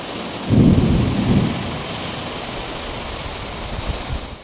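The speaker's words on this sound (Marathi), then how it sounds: "नाशिकमध्ये बघा मित्रांनो किती जोरात आलेला आहे पाऊस" Heavy first-of-season rain in Nashik, heard from indoors by a window: a deep rumble of thunder early on, then a steady, dense downpour hiss continuing throughout.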